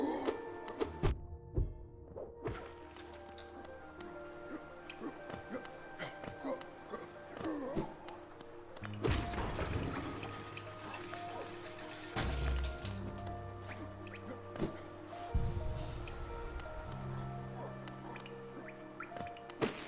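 Chaotic combat sounds from the game Hollow Knight, with repeated whacks, thuds and crashing bursts of explosions layered over a droning musical background, loud hits recurring irregularly throughout.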